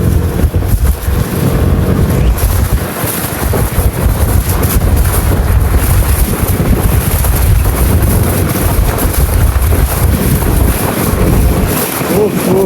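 Strong wind roars continuously into the microphone, a loud, unbroken rush with deep buffeting, like a gusty seashore.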